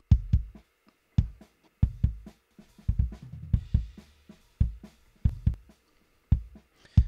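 Close-miked kick drum in a shoegaze mix, dry and unprocessed, thumps alone in an uneven pattern of deep hits with short decays and quiet gaps between them.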